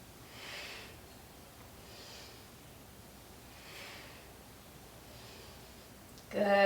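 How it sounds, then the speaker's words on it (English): A deep breath drawn in during a yoga class for dancers, soft airy inhalations repeating in slow rhythm, faint and close, followed by a brief louder rustle at the end. "Deep breath in."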